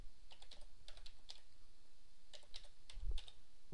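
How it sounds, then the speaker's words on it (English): Someone types a ping command on a computer keyboard at a Windows command prompt, producing light, irregular bursts of key clicks with short pauses between them and a slightly heavier keystroke near the end. "Inside of the DOS prompt, type ping,"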